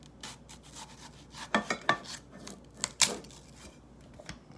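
A knife cutting through juicy watermelon: soft rubbing, scraping strokes with a few sharper crunchy slices, close and moderately loud, no talking.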